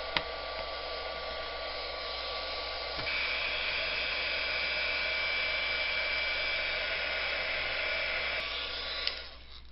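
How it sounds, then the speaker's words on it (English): Electric heat tool running steadily for about ten seconds to warm finger painting, a continuous close whooshing blower hum with a brief change in pitch partway through and a click as it shuts off near the end. "I'm going to turn on my heat tool,"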